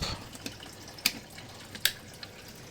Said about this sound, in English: So now you can see that it has turned on, and I can see the water flowing from here.